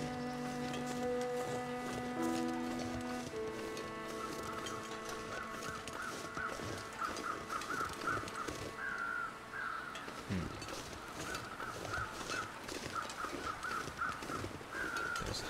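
Hawks in the snowy wilderness of the video game The Long Dark let out repeated harsh calls at moderate distance, over a sustained tonal music drone and wind.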